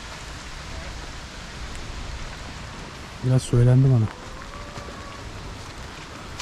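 Steady rain falls outside a village house in winter, a constant hiss filling the whole clip, with a person speaking briefly in the middle.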